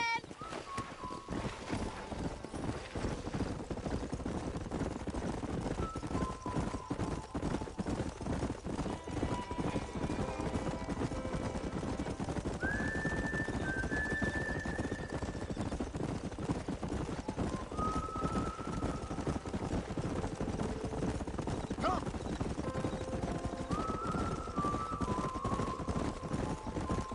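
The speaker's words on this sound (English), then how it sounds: "There's the horses!" Horses gallop in the video game Red Dead Redemption, a steady rhythmic clip-clop of hooves running throughout, with occasional whinnies, game music and voices talking over it.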